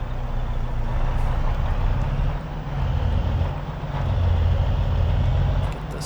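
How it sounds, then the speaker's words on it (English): A Kenworth W990 truck engine runs with a steady, loud low rumble and some wind noise, heard from inside while it hauls grain in Saskatchewan; no one speaks. "I'm still loving this Kenworth truck"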